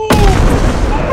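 A bomb blows up in a video game: one loud, close boom with a sharp onset and a rumbling tail that fades over about a second.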